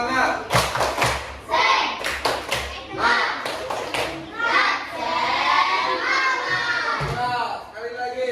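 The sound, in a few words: children doing the 'tepuk semangat' rhythmic clapping chant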